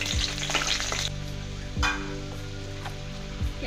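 Garlic cloves frying in oil in a rural Assamese kitchen, a steady close sizzle with a few louder stir-scrapes and sputters, no voices.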